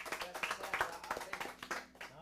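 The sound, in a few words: audience clapping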